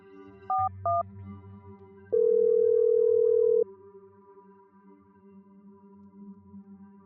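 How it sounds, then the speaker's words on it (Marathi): A phone call's ringing tone plays: two quick beeps, then one long steady tone, clean and alone over a low hum. "भास्करच्या बोलण्यावर त्याच्या चेल्याने पुन्हा एकदा सम्राटला फोन लावला"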